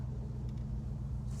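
A 1965 AMC Marlin muscle car with a big front-mounted V8 and 4-barrel carb gives off a low, steady exhaust rumble while cruising, heard from inside the cabin.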